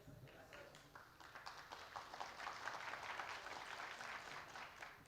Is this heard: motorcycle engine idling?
no